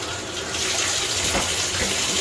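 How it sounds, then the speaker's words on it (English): Tap water gushes steadily into a newly installed bathtub as it is rinsed out. A continuous close, loud rush of water fills the whole moment. "So rinse our tub out here."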